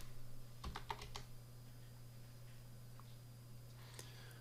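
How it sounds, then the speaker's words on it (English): Several quick, faint keystrokes on a computer keyboard, then a few scattered taps over a low steady hum. "You can type in task manager."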